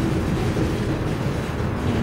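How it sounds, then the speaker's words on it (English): Low, steady rumble of a train approaching through a rail yard, with broadband wind-like noise throughout and no distinct horn or clatter, heard fairly close and alone. "Another train coming."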